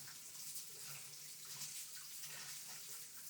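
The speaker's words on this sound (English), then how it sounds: "once again, rinse my hands and tidy down this little mess." Hands are rinsed under a running kitchen tap during cooking. Water splashes in a steady, close, hissing stream with a faint wash of movement underneath and no talk.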